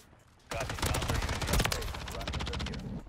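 Rapid SMG fire from a Rival 9 in Call of Duty MW3 rattles in a dense sustained burst after a brief quiet start, continuing for about two and a half seconds.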